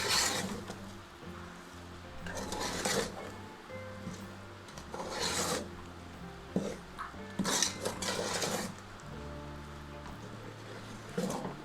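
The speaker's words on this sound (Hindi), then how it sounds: "अब इसको हमने आँच तेज़ करने के बाद इसको खूब अच्छी तरह से अब भूनना है" A metal spoon scrapes and clatters in a pan as chickpea lentil halwa with sugar roasts over high heat, with repeated rhythmic stirring strokes and occasional sharper knocks, close and steady.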